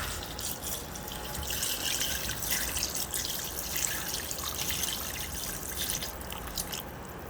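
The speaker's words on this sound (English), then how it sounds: "you're just gonna pour the liquid into the potato" Liquid trickles and splashes steadily into a sweet potato pudding mix in a kitchen, a close, continuous pour lasting several seconds with no talk.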